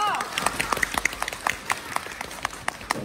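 Scattered, thin audience clapping at a Deyunshe crosstalk comedy show, a handful of sharp separate claps rather than a full ovation, heard under a performer's ongoing talk.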